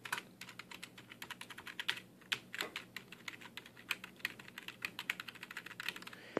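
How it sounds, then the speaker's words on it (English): Fast, irregular clicking keystrokes on a DBPower mechanical keyboard, close and crisp, with short pauses between bursts and no talking. "it does have a little click to it, especially if you're typing"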